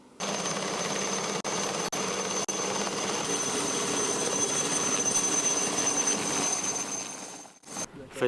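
A helicopter working on a mountain construction site gives a steady, continuous loud engine and rotor drone that holds for several seconds before cutting off near the end, with a brief voice.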